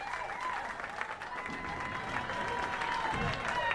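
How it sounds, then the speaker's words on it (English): An audience at a girls' high school bowling state finals claps in steady, continuous applause throughout, with an announcer's voice faintly over it. "how about one more round of applause for our 2 finalists?"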